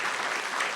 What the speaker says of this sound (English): please give a round of applause to Bob Bowen